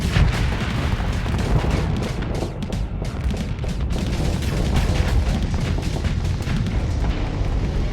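Spaceship weapons firing in the space combat game Starsector, a dense continuous barrage of booming blasts and rapid impacts that stays loud throughout with no talking.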